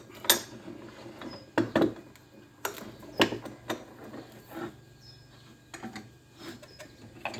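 Screws being unscrewed from an air conditioning fan during copper coil salvage: a series of short clicking, ratcheting bursts with small metallic rattles, close and moderately loud, alone without talk.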